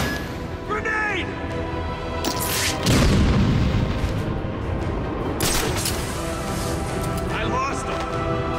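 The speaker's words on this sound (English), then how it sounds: "Grenade!" A grenade goes off in the Batman: Arkham City video game, a deep booming blast a few seconds in that rumbles on amid game noise, while in-game thugs shout.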